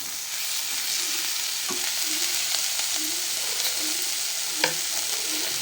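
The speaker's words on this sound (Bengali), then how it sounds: "যে শাকে চিনি দিয়ে নাড়াচাড়া করছি" Methi greens with a little sugar are stirred in a frying pan. A steady oily sizzle runs throughout, broken by soft scraping strokes of the spatula and an occasional light clack against the pan, with no voices.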